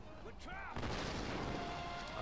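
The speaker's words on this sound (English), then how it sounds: "So there's explosions all over the place." Loud, dense burst of explosions and gunfire in the Tomb Raider 2013 reboot during a castle fire sequence, a few tonal cues at first, then a continuous roaring barrage of blasts.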